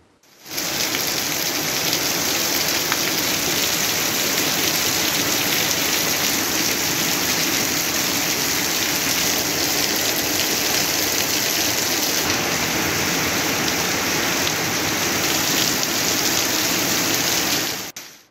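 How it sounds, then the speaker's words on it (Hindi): Heavy rain pours down in Islamabad, a dense, loud, continuous roar of falling water on surfaces, steady from start to finish with no voices. "एबटाबाद, गलियात, हवेलियाँ और गिरदोनवा में बारिश का सिलसिला वक्फे से जारी है"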